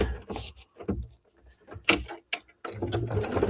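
A sewing machine stitching magnets into a fabric bag, short bursts of mechanical whirring separated by pauses, with a longer run at the end, close and fairly loud.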